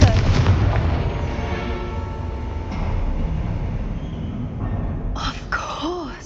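A Confringo fire spell in the video game Hogwarts Legacy lands as a loud, rumbling blast. It is followed by sustained crackling fire and debris, with a few sharp magical whooshes near the end.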